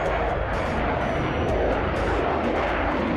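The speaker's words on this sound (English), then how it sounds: "Taking 3rd place is the Sukhoi Su-57, Russia's first 5th-generation stealth fighter" A Sukhoi Su-57 stealth fighter jet roars in a steady, dense engine rumble that holds constant throughout, with faint brief higher hisses over the top.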